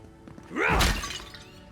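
Breakable objects in the video game Avowed are smashed by a weapon swing, a single loud crashing burst with a falling whoosh, then fading rubble.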